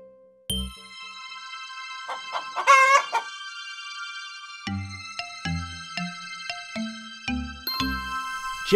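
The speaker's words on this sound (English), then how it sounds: "Chicken." A cartoon farm chicken clucks in short bursts around a loud rooster crowing, with bright chiming jingles layered over the clucks and crow.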